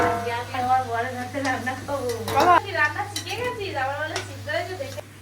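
Potatoes fry in a pan in a home kitchen, giving a soft continuous sizzle with occasional stirring clinks. A person talks close by over the frying.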